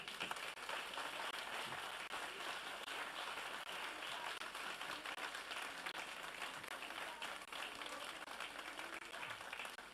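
Sustained applause from a church congregation during a worship service, a dense, steady wash of clapping that holds evenly throughout without pause.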